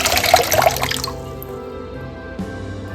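Water poured into a clay pot holding salt for pickling Indian gooseberries (nellikka, amla), a loud close splashing gush for about a second that quickly falls away, followed by a faint tap near the end.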